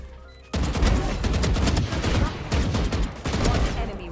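Rapid bursts of gunfire from the tactical shooter VALORANT, loud and dense after a quiet start, with repeated volleys and sharp cracks layered through the round.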